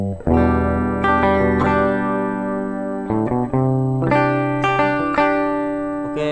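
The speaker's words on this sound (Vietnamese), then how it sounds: "Đây là tiếng của cái đàn guitar của mình." An electric guitar played through a Fortin Cali Suite amp simulator plugin with the noise gate off, giving sustained, ringing, lightly distorted chords and single notes that are close and loud and bloom into a few new strikes.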